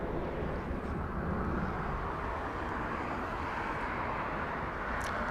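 An Aloha Air Cargo Boeing 767-300 departs runway 25 left at Los Angeles International Airport, its jet engines a steady, unbroken broadband roar heard from a distance and holding level throughout, with no voices.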